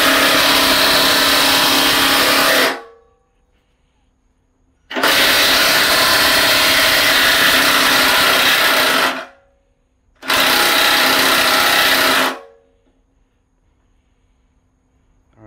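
Power tool driving a Matco ball joint service tool set, three loud sustained bursts of whirring separated by brief silences.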